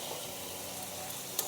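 Bengali drumstick curry sautéing in a pan, a soft, continuous sizzle with a faint stir or clink near the end, heard alone.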